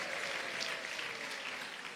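A church congregation applauds in dense, continuous clapping that holds steady throughout, sounding somewhat distant and subdued.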